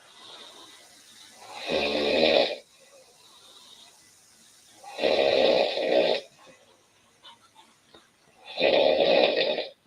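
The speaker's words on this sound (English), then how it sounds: "This is the one who's snoring." A woman snores loudly and close by, three long rasping inhalations spaced a few seconds apart, with quiet breathing between them and no talk.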